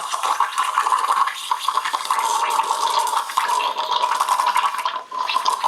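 A BRIEL EG181A coffee machine froths 3.2% milk with a loud, steady hissing and bubbling rush that continues throughout and dips briefly near the end.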